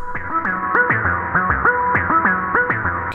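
An OP-1 Field synth line is drenched in a huge reverb, with a looping sequence of gliding notes rising and falling in a steady pulse and washing tails, played alone at moderate loudness.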